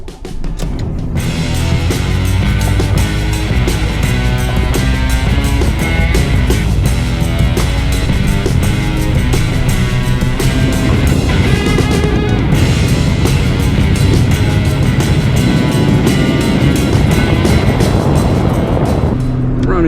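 A Pontiac Fiero GT drives along, its engine a loud steady drone with road rumble heard from inside the car, continuous for the whole stretch.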